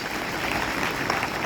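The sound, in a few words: applause for the scout team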